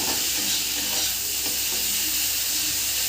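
Gram-flour mixture with white sesame seeds fries in a pan: a loud, dense, unbroken sizzle with soft stirring scrapes beneath it and no talking.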